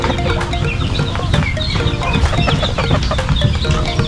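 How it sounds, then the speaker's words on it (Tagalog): A tethered rooster in a farm poultry yard clucks repeatedly at close range, giving a busy run of short, sharp calls in the morning. "Ito po yung aking tandang tinali ko po dahil kasi po nagsasabong sila nitong isa."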